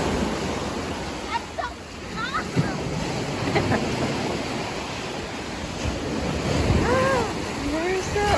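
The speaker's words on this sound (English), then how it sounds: "The waves are so big." Big ocean waves crash and wash onto the shore at a dive resort, a loud continuous roar of surf with wind buffeting the microphone, while people talk excitedly over it.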